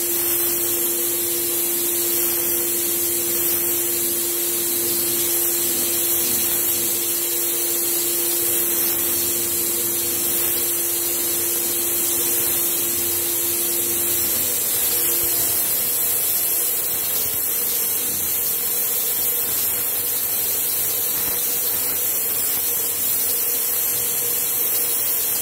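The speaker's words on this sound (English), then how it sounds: "I'll just flash dry it off with just the air on, and then I can just coat it up quickly straight after" A Graco 9.5 Pro Contractor HVLP Edge 2 Plus spray gun blasts a loud, steady hiss of air and paint, with a faint tone early on, continuing unbroken throughout.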